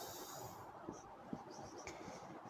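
A pen scratches across paper while working a class 9 math problem, a faint, soft, continuous rasp with a few small taps.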